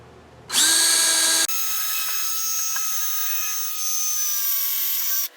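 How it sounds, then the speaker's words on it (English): A power drill pre-drills holes in raised-bed lumber, its motor whining steadily at close range for about five seconds with a slight pitch change partway through. No one talks. "I'm just going to pre-drill some holes here so it doesn't split on me"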